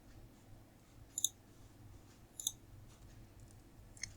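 A computer mouse double-clicks twice while building a VB.net login form. Each double click is a quick, faint pair of clicks, about a second apart, over a low steady hum.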